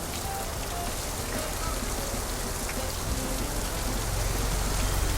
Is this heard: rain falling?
yes